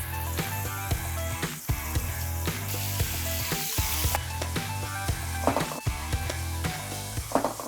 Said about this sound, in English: My oil is really hot right now, as you can hear.